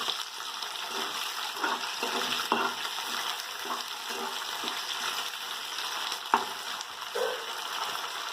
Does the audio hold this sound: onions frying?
yes